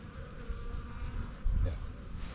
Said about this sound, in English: Did you see how many bees were left up there?